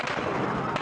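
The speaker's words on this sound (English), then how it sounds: "Relentless gunfire is becoming the soundtrack to many Egyptian cities." Gunfire at night in Cairo during a curfew amid street fighting, a dense continuous rattle of shots and cracks with a sharper burst near the end, no voices.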